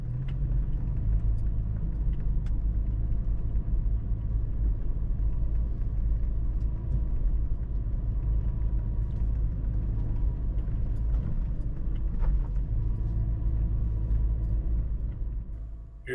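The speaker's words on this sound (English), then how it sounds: "Here I took the FJ off-roading in Yankee Springs, and I just left the pavement starting the ride I took for the weekend." Toyota FJ Cruiser SUV leaving the pavement for off-road trails at Yankee Springs, giving a steady, close, continuous low engine rumble and road drone with faint rattles, no talking.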